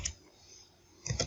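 A few quick keystrokes on a computer keyboard, entering trigonometric labels into an Excel sheet: a short burst of clicks at the start, a quiet gap, then another cluster of taps at the end.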